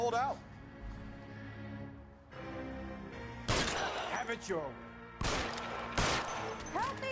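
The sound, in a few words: gunshots in the L.A. Noire video game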